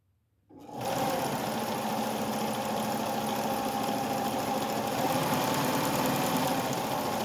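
A vintage White Model 764 "Fair Lady" sewing machine runs steadily while sewing a satin stitch, its close, continuous motor whir and rapid needle clatter starting after a brief silence and holding an even pace throughout.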